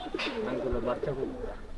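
Domestic pigeons in a keeper's home loft coo in soft, rolling, low calls, several overlapping notes continuing steadily across the short stretch at close range.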